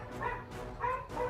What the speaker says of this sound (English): Did you guys hear my dogs?